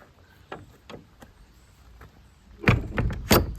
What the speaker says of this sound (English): nice latch on the door